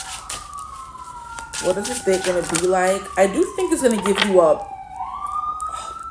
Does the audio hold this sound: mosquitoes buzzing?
no